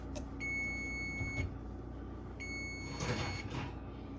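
Oven timer in a home kitchen where sourdough burnt butter chocolate chip cookies are baking, giving two bursts of rapid, high electronic beeps, each lasting about a second, separated by a pause, clear over low room noise.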